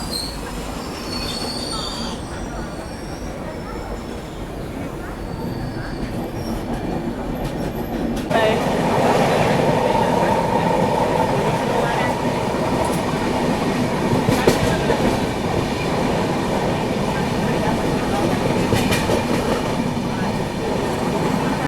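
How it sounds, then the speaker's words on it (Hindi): The Bharat Gaurav tourist train departs Satna Junction railway station in the evening, with a continuous rolling rumble and persistent wheel squeal that grow louder partway through, plus occasional rail clatter, nearby and steady. "लगभग 20 मिनट रुकने के बाद अभी अपनी भारत गौरव टूरिस्ट ट्रेन निकल रही है सतना जंक्शन रेलवे स्टेशन से।"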